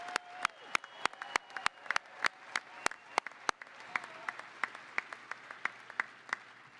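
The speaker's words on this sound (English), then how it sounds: "Another round of applause for these amazing graduates." Commencement audience at the University of Wisconsin-Parkside applauds the graduates of the class of 2022, a steady wash of crowd clapping with sharp, close individual claps punctuating it at a regular pace.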